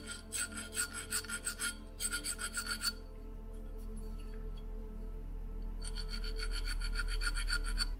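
A hand file scraping the edge of a Triumph motorcycle cylinder head, with quick rhythmic rasping strokes in two bursts separated by a quiet pause, close and fairly soft.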